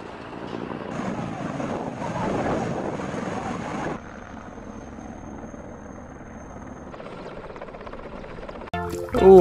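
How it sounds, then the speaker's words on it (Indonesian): A military helicopter's rotor and engine drone loudly with a steady chop for the first four seconds, then fade to a quieter hum before a sudden louder burst at the end. "Di sini ada helikopter militer."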